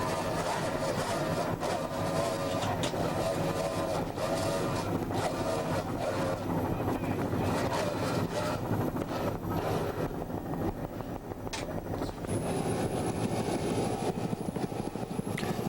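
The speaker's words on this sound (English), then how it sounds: "Mark Weigel doing an outstanding job on the throttles as he propels Tough Enough around this race course." At the 1990 Key West World Championships, the racing powerboat Tough Enough runs its engines at full throttle around the race course, a continuous, fairly faint droning roar heard from a distance.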